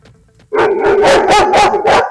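A dog behind a beware-of-dog sign in a Mount Vernon residential street barks loudly and close, five rapid bow-wows in quick succession after a quiet moment.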